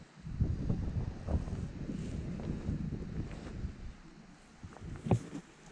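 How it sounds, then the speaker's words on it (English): Strong wind gusts buffet the microphone on a frozen lake during ice fishing in extreme cold, a low, irregular rumbling roar that swells and fades with a few faint knocks underneath. "that wind is whipping out here."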